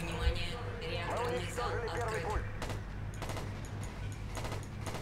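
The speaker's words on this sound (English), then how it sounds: "I'm literally shooting the shit out of this thing." Bursts of rapid automatic gunfire from the Battlefield 2142 video game in Titan mode rattle steadily beneath a voice talking over the action, the shots continuing in dense repeated volleys.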